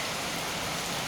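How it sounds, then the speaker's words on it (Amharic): Heavy rain pours down in a dense, even wash of hissing noise, close and unbroken for a brief moment. "ኃይለኛ ዝናብ"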